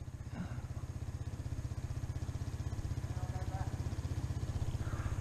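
Dirt bike engine on the Erzberg hill climb, a steady loud four-stroke chatter with dense rapid firing pulses throughout, close by, with shouting voices mixed in over it.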